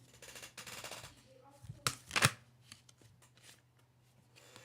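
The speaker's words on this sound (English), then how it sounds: "I'm going to pull more cards." Tarot cards are shuffled and pulled from the deck, with riffling flutters followed by a couple of sharp slapping snaps and softer rustles, close and fairly quiet, under a faint low hum.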